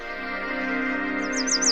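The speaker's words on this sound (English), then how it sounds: "hearing the warbler's lovely song" A warbler in spring sings a quick run of three or four short, high, descending chirps near the end, over a steady, sustained musical tone.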